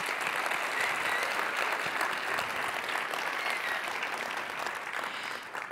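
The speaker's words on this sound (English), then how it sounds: "please give a huge round of applause to all of the Startup Battlefield 200 companies" A large conference audience at TechCrunch Disrupt 2025 gives sustained applause for the Startup Battlefield 200 companies, a steady wash of many hands clapping from start to finish, slightly fading at the close.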